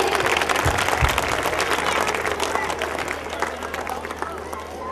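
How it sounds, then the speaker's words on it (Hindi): A hall audience applauds to welcome an arriving guest at a formal gathering, a broad, fairly distant patter of many hands with a voice talking over part of it. "हम सभी को तालियां बजाकर उनका स्वागत करना चाहिए।"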